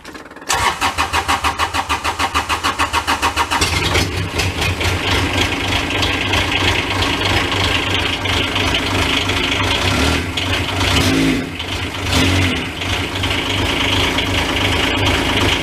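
A BobCat UTV with no muffler and a freshly rebuilt transmission cranks and fires, then runs loud and raw up close, with uneven revving surges and a rattling bed throughout; no one talks.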